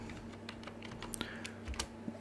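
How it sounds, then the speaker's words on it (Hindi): Fingers type on a computer keyboard in quick, uneven bursts of close, crisp key clicks, with a few heavier keystrokes, over a quiet background hum. "अब यहाँ पे मैं करता हूँ टाइपिंग"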